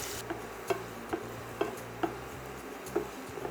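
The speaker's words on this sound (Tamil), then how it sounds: "இப்போ பிரண்டை கொஞ்சம் லேசாக வதங்கியிருக்குது இன்னும் ஒரு அஞ்சு நிமிஷம் நாம் வதக்க வேண்டியிருக்கும்" Pirandai (adamant creeper) is sautéed in a pan, with a spatula scraping and tapping the pan in a slow regular rhythm over a faint sizzle, close and fairly quiet.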